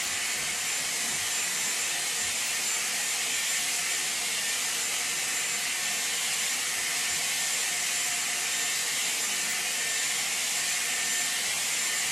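A Dyson Airwrap with a round brush attachment blow-drying hair, giving a loud, steady airy hiss that holds without a break throughout.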